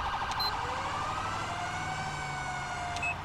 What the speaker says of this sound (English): This police car needs to turn off their siren.